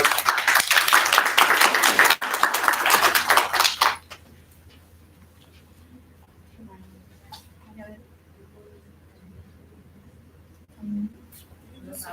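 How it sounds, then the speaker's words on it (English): An audience at an essay awards ceremony applauds a student, a dense round of clapping for about four seconds that stops abruptly, followed by quiet room noise and small handling sounds. "applause."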